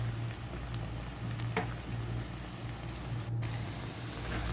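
Tuna sautéing with garlic and onion in a pan, a steady close sizzle with soft crackles and an occasional stirring scrape, over a low constant hum, no talking.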